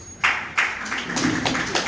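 An audience applauds guests being introduced at a political gathering, with sharp bursts of clapping that swell into steady, fairly close applause.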